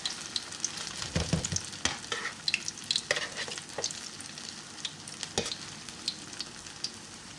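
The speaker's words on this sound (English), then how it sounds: "we're going to finish frying up our callaloo nuggets" Callaloo nuggets fry in a pan with a steady sizzle and crackle. Irregular scrapes and taps from stirring sound over it.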